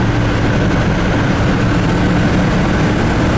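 A 1966 Chevrolet Impala convertible cruises at highway speed, its engine humming steadily under loud, constant road and wind rumble, with no distinct rev changes, throughout.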